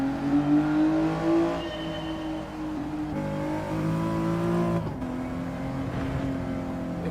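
A mid-engined hot hatch in Gran Turismo 7 revs and accelerates through its gears. The engine note climbs and then drops at a couple of shift points, and it runs steady and fairly close with no talking.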